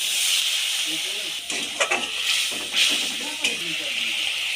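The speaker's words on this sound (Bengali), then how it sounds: "এবার ওর মধ্যে জল দিয়ে দেবো" Water poured onto hot, oil-fried spice masala in a pan makes a loud, steady hiss and steamy sizzle, with a few bubbling crackles and a faint voice in the background.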